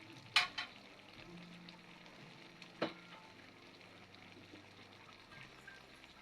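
Mung bean stew with a splash of broth gently bubbling in a pan, a faint steady sizzle and simmer broken by a couple of soft clinks of a utensil, with no talking.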